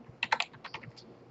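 Computer keyboard typed in a quick burst of close, crisp keystrokes, then a few slower taps, during an R programming lecture, with no talking over it.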